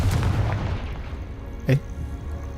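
Confringo fire spell blast in Hogwarts Legacy, a short burst over a rumbling game backdrop, with a sharp pop near the end.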